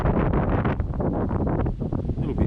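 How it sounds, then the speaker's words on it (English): Wind gusting along a chilly bush track near O'Brien's Crossing in the Lerderderg area, a loud, rough buffeting roar that fills the microphone without a break. "A little bit windy, a little bit chilly."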